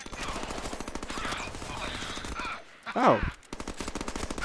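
Rapid automatic gunfire in the Deadpool video game, a dense, steady stream of shots running nearly the whole time, briefly interrupted by a short pained cry from a voice.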